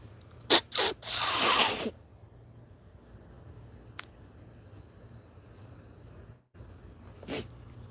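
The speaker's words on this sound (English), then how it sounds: "Pardon me while I blow my nose." Someone blows their nose in a quiet room, a few sharp snorts followed by a longer loud blast, then near silence with a couple of faint clicks and one more brief snort.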